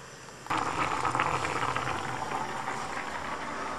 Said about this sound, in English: As you can see, the rice is boiling now.